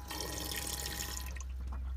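A small kitchen tap in a Peugeot Traveller campervan conversion runs water steadily into the sink, a close, continuous splashing hiss lasting about two seconds with no talk.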